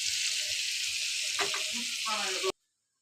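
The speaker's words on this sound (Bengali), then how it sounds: "এখন আমি দিয়ে দেবো চিংড়ি মাছগুলো।" Shrimp dropped into spice paste frying in oil in a pan for a shrimp bhuna, giving a loud, steady hiss with faint muffled sounds mid-way before it cuts off abruptly.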